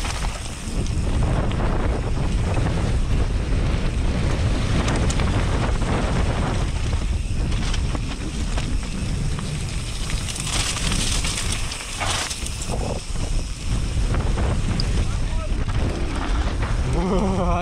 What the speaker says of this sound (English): It's too windy to go for these jumps. So windy.